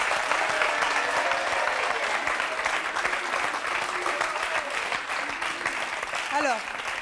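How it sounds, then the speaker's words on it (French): Studio audience on a French TV talk show applauding a guest's entrance, steady sustained clapping with voices faintly audible underneath. "On peut l'applaudir."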